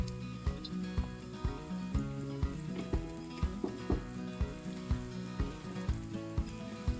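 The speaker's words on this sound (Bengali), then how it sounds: "এবার রসুন কুচিটা দিয়ে দিচ্ছি।" Chopped garlic sizzles softly in hot oil beneath background music with a regular, thumping beat.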